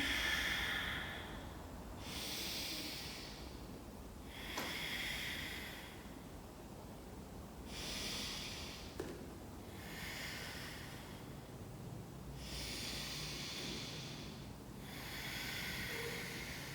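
Slow, deep breathing while holding downward dog in a yoga flow: about six unhurried inhale-exhale cycles, each a soft airy rush close to the mic, evenly spaced with quiet pauses between and no talking.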